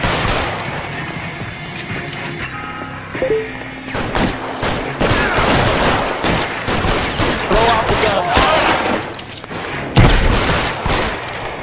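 Gunfire in the video game LA Noire during a foot chase with police, a dense fusillade of close, sharp shots and crashes that runs almost continuously and grows heavier toward the end.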